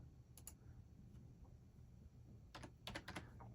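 Short bursts of keyboard typing, a few quick key clicks near the start and a denser cluster toward the end, faint and close over a quiet room hum.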